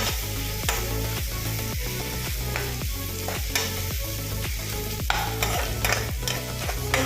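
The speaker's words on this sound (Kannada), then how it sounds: "ಈರುಳ್ಳಿ ಫ್ರೈ ಆಗಿಲ್ಲ, ಆಗಲಿ ಇನ್ನೊಂದು 30 ಸೆಕೆಂಡ್ ಫ್ರೈ ಆಗಲಿ" Onions fry in a pan for a sabudana and poha upma, a steady sizzle under quick, rhythmic spatula strokes that scrape the pan roughly every half second throughout.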